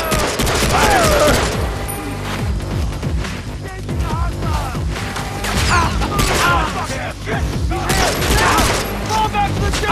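Dense, continuous video-game gunfire from Far Cry 3, loud rapid bursts and explosive booms during a firefight defending explosives, with shouted voices mixed in throughout.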